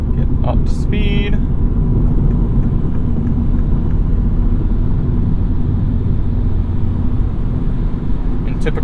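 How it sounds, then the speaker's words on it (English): A 2022 Mini Cooper S Hardtop 2-door with a six-speed manual pulls gently in 6th gear on the highway, giving a steady low engine drone mixed with road and wind rumble. The sound runs continuously throughout, and a brief click is heard near the start. "So much torque from this little motor, you can kind of just ease into it in 6th gear."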